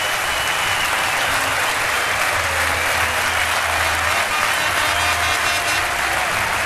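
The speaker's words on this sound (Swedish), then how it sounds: "Järnkaminerna jublar" Djurgården supporters in a stadium roaring and cheering after a goal in a 2001 Allsvenskan football match, a dense, loud, unbroken wash of crowd noise with no pauses.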